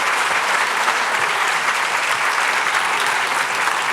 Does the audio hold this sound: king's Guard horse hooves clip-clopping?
no